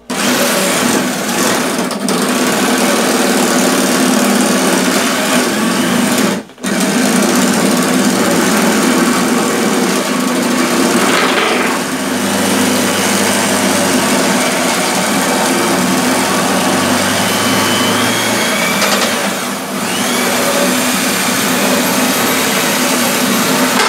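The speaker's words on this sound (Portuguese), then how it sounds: "Pega aqui, ó, a furadeira, tem que apertar o mandril aqui" An electric drill whirring at high speed while boring into a bamboo arrow shaft, a loud, continuous, close motor whine with a brief dip partway through and slight changes in pitch as it bites.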